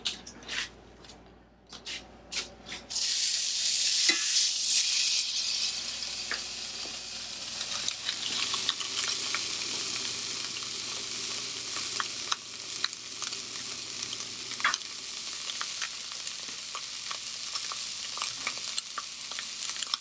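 Australian Wagyu picanha, a BMS 9 Plus cut, sizzles steadily in a little oil in a pan, a loud continuous hiss and crackle after a brief quieter start, with occasional pops and no talking.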